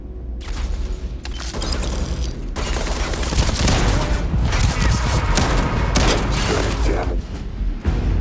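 Sustained covering fire in Starfield, dense loud bursts of rapid gunshots with booming impacts rolling on for several seconds, with game voices faintly underneath.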